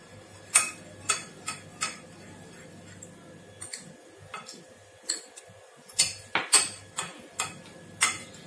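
Spoon tapping and scraping in a bowl while ketchup is stirred together with vinegar, a series of sharp, evenly spaced clinks, close and fairly quiet.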